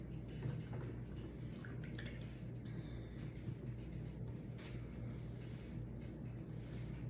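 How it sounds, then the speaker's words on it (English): Milk, 2% reduced-fat, poured into pear cobbler batter: a steady, soft liquid pour with a low, continuous wash of sound and no speech. "then we're gonna put in a cup of milk."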